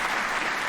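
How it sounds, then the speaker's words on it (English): A short burst of crowd applause, dense steady clapping that sounds like a canned sound effect, with no voices over it. "So there's an applause sound that"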